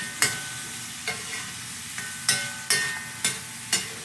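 Bacon sizzles in a pan with a soft, steady hiss, broken by several sharp scraping or stirring clicks at irregular intervals; no talking.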